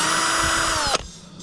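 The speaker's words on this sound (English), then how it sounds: "I'll show you what hammer action is." A loud power drill in hammer action mode whirs at high speed with a rough, rattling edge, then abruptly stops, leaving quiet background noise.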